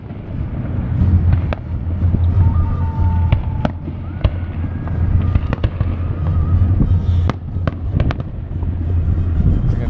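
Fireworks burst over Toms River on a July evening, heard from a boat as a string of sharp pops and crackles over a constant low rumble of wind buffeting the microphone.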